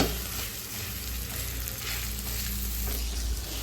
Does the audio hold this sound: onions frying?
yes